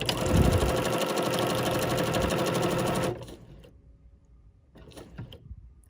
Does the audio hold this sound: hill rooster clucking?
no